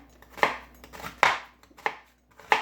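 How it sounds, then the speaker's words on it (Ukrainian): Knife chopping two large onions finely into small cubes on a board, five sharp separate thuds at an uneven pace, close and distinct with no talking. "дві такі крупні цибульки. Зараз я наріжу мілко їх"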